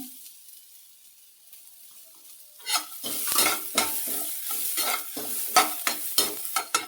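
Grated coconut and beans stirred and roasted in a hot pan, starting near silent, then rhythmic scraping strokes of a spoon with a light sizzle, close and fairly loud.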